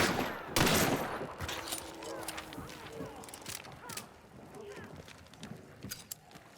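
Gunfire in Hunt: Showdown during a boss-lair fight, a sharp close shotgun blast followed by scattered distant shots and mechanical clicks, faint and intermittent, with someone talking over it.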